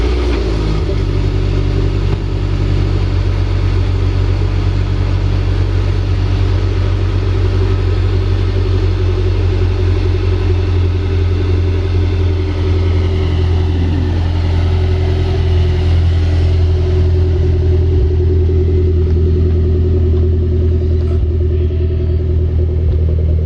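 Lowered Mazdaspeed 3 project car on air suspension, with a fresh wrap and new wheels, starting up and running: a loud, steady low engine rumble and idle hum that continues throughout, with no talk.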